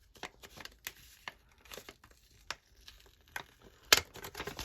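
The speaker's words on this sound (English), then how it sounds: "Look at this envelope with their seal." Paper crinkles and tears in a string of short, close crackling bursts as a sealed paper envelope is opened, ending in one sharper rip near the end, with no talking.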